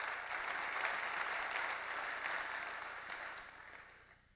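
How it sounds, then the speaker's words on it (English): Soft, distant applause from a seated audience at a technology talk, steady for a few seconds before gradually thinning and fading out. "You guys should give yourselves a round of applause."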